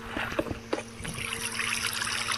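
Water flowing in the block-building game Minecraft, a soft continuous trickling wash with a couple of faint taps early on.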